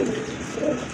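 A large male pigeon of a fancy breed coos briefly, a low soft throaty murmur close by against faint background noise.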